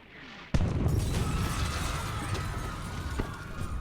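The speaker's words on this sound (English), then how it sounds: "That was an explosion." A video game cutscene explosion hits with a sudden sharp burst, then a loud sustained rumble and crackle of debris that fades only slightly over the next few seconds.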